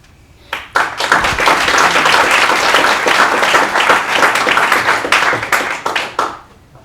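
A parent orientation audience breaks into loud, sustained applause, with dense clapping swelling quickly, holding steady, then tapering off into scattered claps.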